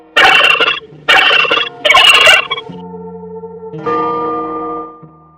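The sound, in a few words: turkey gobbling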